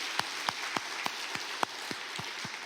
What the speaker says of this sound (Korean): 우리 박수로 한번 하나님께 영광 돌리겠습니다.